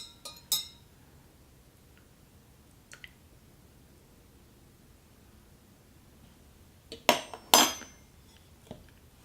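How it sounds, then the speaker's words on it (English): A Reed & Barton café royale spoon stirs cognac and sugar into hot coffee, giving a few quiet, sparse metallic clinks against the cup, with a brief cluster of sharper taps near the end and no voices. "Add that to your coffee, stir it around."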